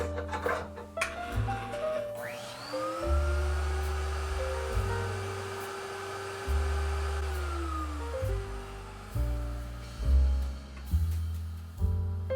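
A MoFi vinyl record cleaning machine's motor whirs up to a steady hum, holds for a few seconds, then winds down, between mechanical clicks and handling sounds, fairly quiet and close.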